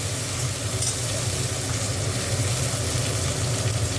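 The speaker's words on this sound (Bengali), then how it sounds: "পেঁয়াজটা একটু ভাজা ভাজা, এটা একটু টমেটো দিয়ে দিয়েছি" Onion and tomato frying in a pan for an egg curry, a steady, moderately loud sizzle with faint stirring, continuous and close.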